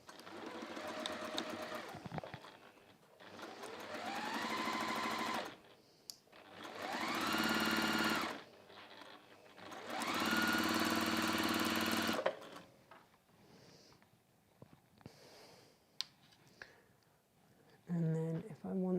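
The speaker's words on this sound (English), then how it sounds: "So I'm just going to sew 1/4 of an inch along there." A sewing machine stitches a quarter-inch seam on a Christmas stocking in several loud bursts of steady whirring, separated by quieter pauses with faint handling sounds and some talk.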